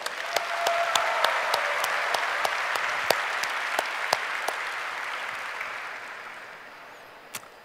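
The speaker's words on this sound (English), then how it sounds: "So let's give them a warm applause." An audience at Google Developer Days India 2017 gives sustained warm applause, a steady wash of clapping with a few sharper individual claps standing out, slowly fading toward the end.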